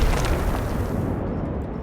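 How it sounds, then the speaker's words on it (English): A deep, booming explosion from the video game Generation Zero fills the short moment: a loud, broad blast with a rumbling tail that fades into hiss. "Have my own explosions"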